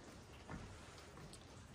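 Steady rain falls at a construction site near a ladder and stair platform, a faint, even hiss with no talk.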